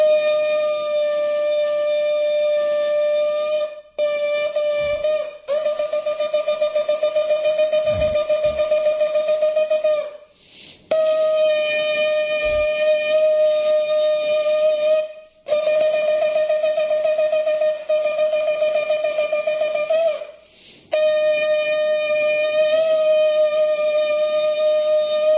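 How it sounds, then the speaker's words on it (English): Shofar, a ram's horn, sounded in a temple after the Torah reading: several long, steady, nasal blasts separated by brief pauses, loud and alone. "This is the sound of the shofar"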